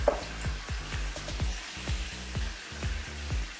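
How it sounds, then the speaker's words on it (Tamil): Chicken frying in a pan for Thalassery chicken biryani, a steady low sizzle broken by repeated clanks of a spoon or ladle stirring, fairly close and moderate in level. "சிக்கன் இந்த அளவுக்கு வந்துட்டு ஃப்ரை பண்ணணும்"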